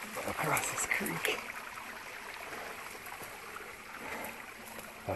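A jungle creek flows near the listener with a soft, continuous trickle and gurgle of water, and a few louder splashes come early on.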